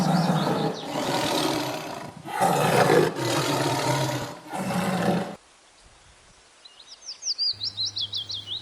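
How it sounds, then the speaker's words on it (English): A tiger gives several loud, full roars over about five seconds, close and dominant, then drops away to quiet ambience with bird calls chirping in short rapid bursts. "T for tiger."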